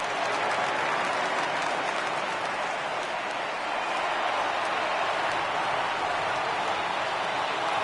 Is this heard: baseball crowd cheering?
yes